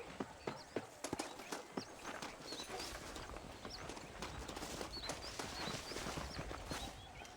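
Horse hooves clip-clop at a steady walking rhythm in Red Dead Redemption, fairly close and continuous, with a faint ambient bed of birdsong behind them.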